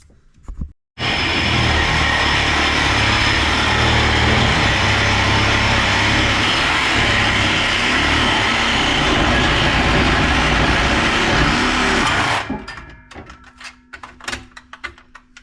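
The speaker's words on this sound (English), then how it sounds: "get my cut-off tool. We're going to cut this exhaust." Cut-off tool slicing through a car exhaust pipe on an '86 Z, a loud sustained high-pitched grinding whine starting abruptly and running about eleven seconds before spinning down.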